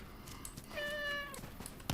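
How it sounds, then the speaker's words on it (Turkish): A cat lets out a single clear meow, fairly quiet and close, against a faint background. "Bir de o sırada kedi sesi de geliyordu ya."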